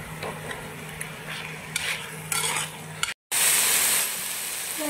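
Taro and tofu being stir-fried with bean paste and dark soy sauce in a pan, with steady sizzling, scraping strokes and a brief gap before a louder, hotter hiss.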